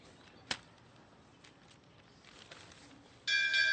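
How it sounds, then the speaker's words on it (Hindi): A school bell bursts in sharply near the end, a bright continuous ringing that follows a quiet room with a single sharp knock and faint shuffling. "ये घंटी बजी।"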